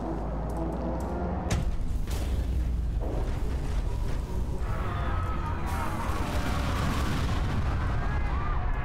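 Heavy booming explosions go off in a video game during a hacking blackout, with a sharp initial blast followed by several more bursts and a sustained rumbling roar.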